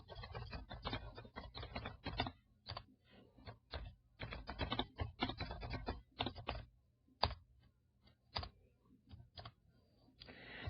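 Keystrokes on a computer keyboard as code is typed, quiet and close, coming in quick bursts of clicks broken by short pauses, over a low steady hum with no talking.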